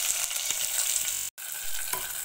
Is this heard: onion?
yes